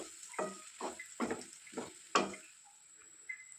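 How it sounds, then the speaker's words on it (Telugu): Chicken liver with coriander powder, chicken masala and cumin powder being stirred in a pan, giving a string of about five short scraping strokes with a faint high hiss running underneath. "వీటన్నిటినీ వేసి చికెన్ లివర్కి పట్టేటట్లు బాగా కలుపుకోవాలి"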